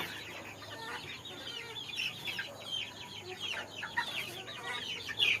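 A flock of chickens on a farm in the Philippines clucks and chatters continuously, many birds calling at once at moderate distance, with no voices.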